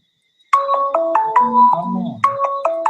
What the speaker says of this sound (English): I'm getting a call.